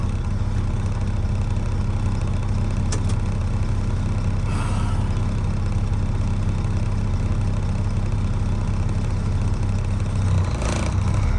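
A big rig truck's diesel engine runs at a steady, loud idle-like rumble throughout, with a brief hiss near the end resembling an air brake release.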